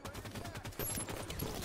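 Rapid gunfire rattles in a Halo 5 multiplayer match, a dense fusillade of quick repeated shots and impacts striking the player, loud and continuous with a brief sharp whine partway through.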